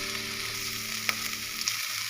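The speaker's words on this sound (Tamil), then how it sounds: "நல்லா வதங்கணும் வெங்காயம்." Onions, ginger garlic paste and green chilies sizzle in hot oil while frying for rava kichadi, a steady bright hiss with faint stirring clicks and a low background hum, heard alone without talk.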